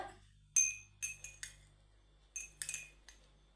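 A metal spoon clinks against a bowl while coffee powder is added for a homemade face pack, with several sharp ringing taps in small clusters and quiet between them.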